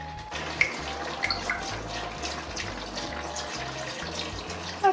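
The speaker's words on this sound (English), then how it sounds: "I'm going to put some wine in here" Wine pours into a pot of simmering ratatouille, a soft continuous liquid stream with gentle gurgling and a few small clinks, close but fairly quiet.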